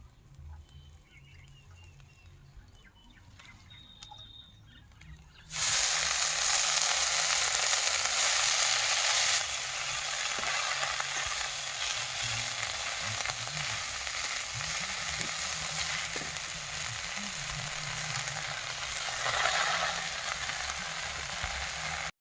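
Leafy greens (note shak) dropped into a hot pan start a loud, steady sizzle that swells suddenly and then settles into continuous frying crackle, with faint clatter beneath.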